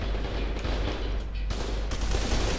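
Dense, sustained gunfire from the shooter video game F.E.A.R. 2, with bursts of rapid automatic fire blending into a loud, continuous fusillade that does not let up.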